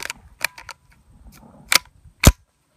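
CCI .22LR short-range green hollow point 21-grain ammunition fired: two sharp, close cracks, the louder one near the end, with softer mechanical clicks and handling noises before them.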